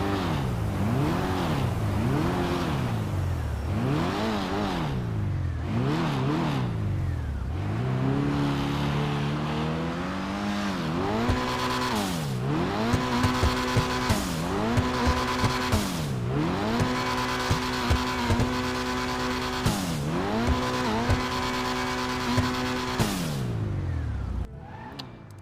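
The Dinka Jester RR, a Toyota Supra–style tuner car in a video game, revs loudly on a test drive, its engine climbing and dropping through repeated gear shifts, with brief tire squeals near the end.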